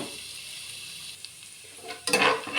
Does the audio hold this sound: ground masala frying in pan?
yes